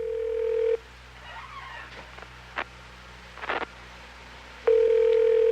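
A dial tone sounds, then a few short dialing blips and clicks in quiet, before the steady tone returns at the end.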